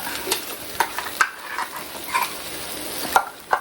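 Masala fries in oil with softened tomatoes for an okra and egg curry, a low steady sizzle punctuated by spoon-on-pan stirring clacks at an irregular rhythm, close and fairly quiet with no talk.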